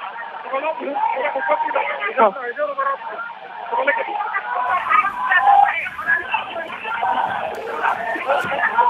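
A dense crowd of Sanjay Rathod's supporters gathered at Pohradevi in Washim, a continuous mass of overlapping voices and shouts that swells and stays loud throughout.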